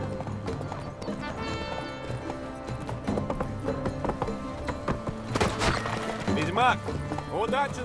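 Geralt's horse gallops in a tournament race in The Witcher 3: Blood and Wine, a rapid rhythmic clip-clop of hooves with occasional whinnies, heard under excited talk and game music.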